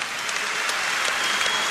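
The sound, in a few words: warm applause for coach Panagiotis Giannakis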